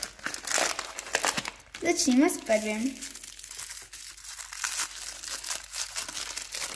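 Paper packets from a LOL Pets toy crinkle and tear as they are opened, a close rustling and crunching under steady talk.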